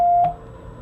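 A single steady Morse code tone for the letter T sounds as one clean, mid-pitched beep lasting about a third of a second, then cuts off, leaving faint background hiss.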